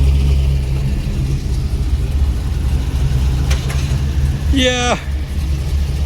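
A 1987 K20 Suburban with a swapped 5.3 LS V8 idles steadily with a loud, close, deep rumble, while someone talks over it and briefly whistles.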